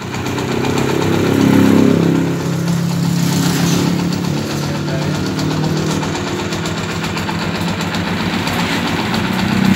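A 2008 Honda TMX155 Atlantica CDI motorcycle engine, freshly refurbished, runs close and loud, swelling in a brief rev before settling into a steady, even idle.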